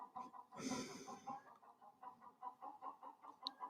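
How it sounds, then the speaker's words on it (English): A chicken outside a window clucks in a steady, rhythmic series of soft pulses, after a brief louder breathy squawk near the start, moderately distant and faint in a quiet room. "I have no idea why there's a chicken still outside."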